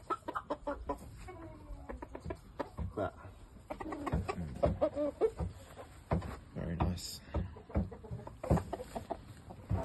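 Shamo gamefowl rooster, a newly imported game bird, gives short clucks and calls amid close conversation, with people talking over and between the bird sounds throughout.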